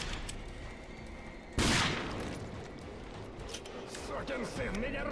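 A single loud gunshot blast with a lingering tail cracks out in the first-person shooter Rage, surrounded by ongoing game noise and a player talking.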